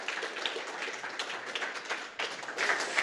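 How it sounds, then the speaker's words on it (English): A conference audience applauds as a speaker is introduced for a tech talk, a fairly quiet, distant wash of clapping that dips briefly and then picks back up. "Please give him a round of applause."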